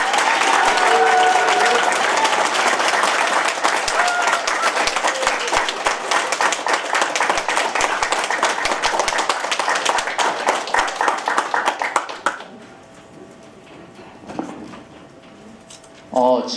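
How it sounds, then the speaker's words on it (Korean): A Daegu political town-hall audience breaks into loud, dense applause, many hands clapping steadily for about twelve seconds before it cuts off abruptly, leaving quiet room tone and a brief voice at the end. "뜨거운 박수 부탁드립니다."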